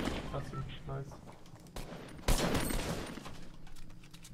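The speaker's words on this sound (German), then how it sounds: "Einfach leer geschossen. 30 Schuss habe ich dafür gebraucht." Gunfire in the video game Fortnite, a scattered burst of shots including a sharp loud blast, heard over a player talking during the match.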